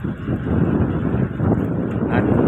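Strong gusting wind before an approaching storm buffets the microphone in a steady loud rush, with a boat nearby.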